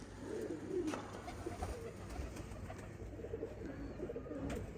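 Sialkoti pigeons coo on a rooftop, with soft low throaty calls repeating close by over a steady outdoor background hum.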